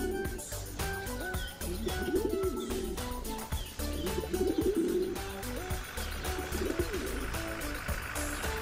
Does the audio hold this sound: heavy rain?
no